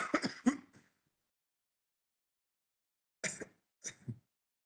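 A lecturer at an e-learning roadshow clears the throat and coughs in short bursts, one cluster at the start and two brief ones near the end, close and separated by silence.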